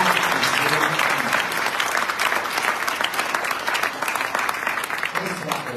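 Loud, sustained applause from a large crowd at a political organizational assembly in Sicily, continuous dense clapping filling the hall with a voice faintly mixed underneath.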